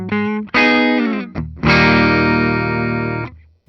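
A 2020 Gibson Les Paul Custom electric guitar with custom humbuckers rings out a few loud, sustained clean chords, each strummed and left to ring before the last one fades out.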